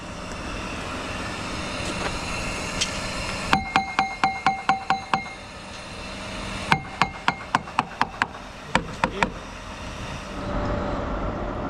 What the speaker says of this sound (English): Tap it again. Let's see where it's empty and full.